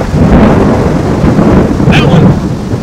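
Loud, close thunder from a nearby summer thunderstorm, a continuous deep rumble filling the whole stretch with a faint higher sound near the end.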